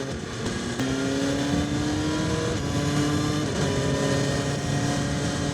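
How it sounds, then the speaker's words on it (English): A BMW S1000XR motorcycle engine drones steadily nearby as it shifts down through the gears, the pitch stepping and sliding between shifts with no talk. "Let's go down a few gears."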